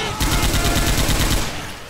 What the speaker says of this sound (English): I got a machine gun now.